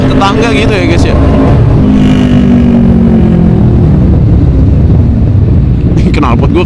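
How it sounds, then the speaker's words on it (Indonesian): Honda CBR motorcycle with a quiet stock-style exhaust revving loudly and close, engine note rising and falling, with someone talking over it. "Knalpot gue kayak nggak ada, kayak knalpot standar"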